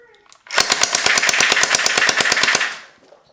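A gel blaster fires on full auto in a rapid, even burst of about twenty sharp shots over two seconds, loud and close, with no other sound.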